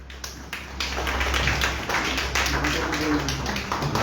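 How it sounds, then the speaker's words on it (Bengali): Audience clapping at a stage introduction during an old-records song program, a fairly loud continuous patter of many hands that swells after the first second and holds steady. "তার জন্য চাইছি জোরে হাততালি"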